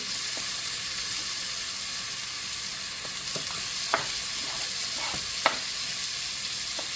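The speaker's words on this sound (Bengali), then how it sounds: "এক এক করে সব ভেজিটেবলস দিব তার মাশরুমটা আগে দিয়ে দিচ্ছি" Mushrooms and onion frying in a pan, a continuous close sizzle with occasional sharp pops and stirring scrapes, no talk.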